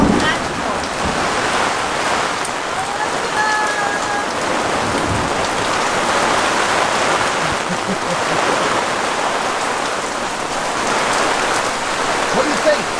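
Steady summer thunderstorm rain pours down in Wyoming, a dense continuous hiss of drops on surfaces that holds evenly loud throughout, with no distinct thunder standing out.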